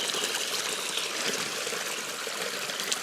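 River water streaming steadily along a hiking trail in the Cure valley, a continuous close, even rush and trickle heard alone with no voices.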